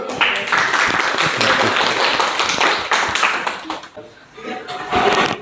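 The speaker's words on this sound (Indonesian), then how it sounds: "Tepuk tangan dulu." Participants at a teacher-training session clap together for several seconds, a brisk, fairly loud patter mixed with light chuckles and voices, briefly dipping before picking up again.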